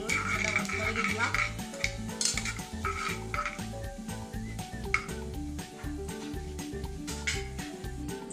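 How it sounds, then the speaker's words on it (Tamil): Cashew nuts sautéing in a pan for Tamil-style jeera rice, with steady clinking and scraping of a utensil against the pan and a soft sizzle beneath, continuing throughout. "நெக்ஸ்ட் 6-7 கேஷ்நட்ஸ், லைட்டாக ப்ரௌன் கலரில் வரும்போது வதக்கிக்கலாம்."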